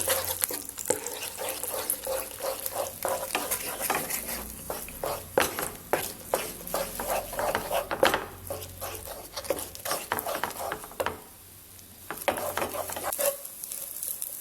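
Scrambled egg being beaten with salt and pepper in a bowl, a fast run of sharp rhythmic clicks and scrapes from the utensil against the bowl, with a brief pause near the end.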